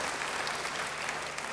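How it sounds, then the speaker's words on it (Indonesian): Steady, dense applause from a church congregation fills the space, a continuous wash of clapping hands without pauses or voices. "Sekali lagi, beri tepuk tangan yang baik bagi dia."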